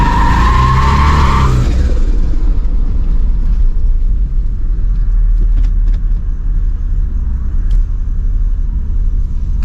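A turbocharged Pontiac Trans Am power-brakes and launches in a parking lot, its engine roaring loud and close with a brief tire squeal at the start, then a sustained heavy rumble as it pulls away.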